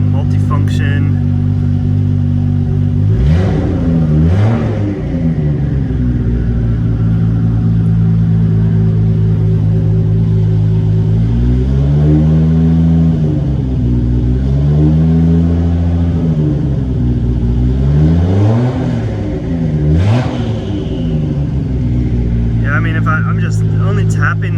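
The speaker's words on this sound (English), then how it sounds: "I'm just only tapping the exhaust a little bit." A loud 2.8-litre Nissan R34 Skyline GT-R holds a deep, close idle through its exhaust, with several sharp throttle blips that rise and fall in pitch, spaced across the stretch.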